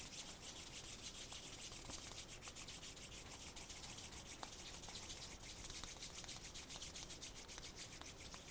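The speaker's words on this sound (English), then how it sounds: "Rub the soles of the feet and the palms together." Palms and soles of the feet rub together during a yoga session, giving a faint, steady, rhythmic brushing friction sound heard alone without speech.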